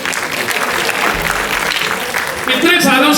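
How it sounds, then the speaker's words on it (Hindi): Loud crowd clapping in the Tagore Theatre in Chandigarh during a Ramlila gathering, dense and continuous, with a voice and some tonal sound emerging over it toward the end. "अब बजाइए जोरदार ताली।"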